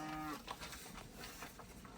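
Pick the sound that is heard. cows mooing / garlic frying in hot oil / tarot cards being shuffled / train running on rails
cows mooing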